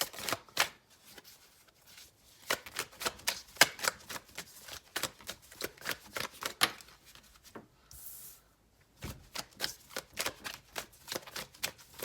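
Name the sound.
tarot cards being shuffled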